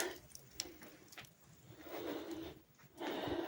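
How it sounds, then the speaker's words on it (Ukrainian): A bird kept indoors for rehabilitation coos softly in a warm room, with a few low murmuring calls and brief rustles at close range and no speech. "Птаха тут в мене живе на реабілітації."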